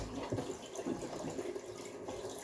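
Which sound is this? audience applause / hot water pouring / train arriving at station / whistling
hot water pouring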